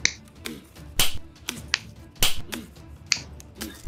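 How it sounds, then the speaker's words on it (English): Clapping sounds in the Baldi's Basics video game: a series of sharp, crisp claps in an uneven rhythm, about a dozen in four seconds, heard alone with no talk. "What's those clapping noises?"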